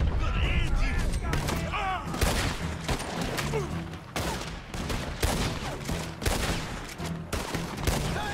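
Lancaster rifle shots ring out in the Wild West setting of Red Dead Redemption 2, a rapid run of sharp cracks and booms over busy battle noise, dense and close, with a voice talking at times.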